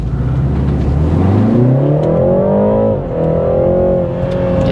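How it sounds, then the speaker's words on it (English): A 2015 BMW 330i four-cylinder engine revs hard and close, its pitch climbing steadily, dipping briefly as it eases off, then holding high again with a throaty whir. "Yeah, this car sounds pretty cool, actually, despite being a 4-cylinder."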